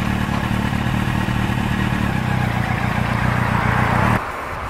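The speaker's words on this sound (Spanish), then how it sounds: "ya empezamos a notar como la motocicleta avanza" A motorcycle creeping forward on the clutch with no throttle, its engine idling in a loud, steady, close rumble that drops suddenly near the end.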